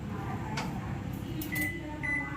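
An IFB 23SC3 microwave oven runs after an automatic start, giving a steady low hum and whir close by, with a couple of brief clicks and a faint beep-like tone near the end.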